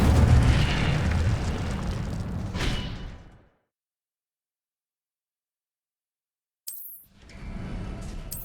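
A fire spell from the Hogwarts Legacy game bursts as a loud, roaring blast. It cuts off into about three seconds of silence, then a sharp crack starts another burst of crackling flame.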